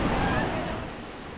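Surf washing onto the shore at Rishikonda beach, a steady broadband wash of waves with wind noise, fairly close and continuous, with no voices over it.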